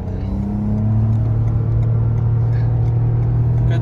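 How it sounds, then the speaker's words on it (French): A 2021 Toyota Yaris Hybrid petrol engine at full throttle, a loud steady drone that climbs in pitch from inside the car, with a brief voice in the background. "le moteur essence vient de déclencher. Du coup, un petit pied au plancher."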